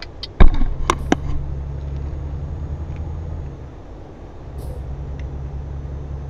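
Truck air brakes in the Euro Truck Simulator 2 driving game give a sharp hiss and release bursts near the start, then settle into a steady low engine and road rumble, with no talk.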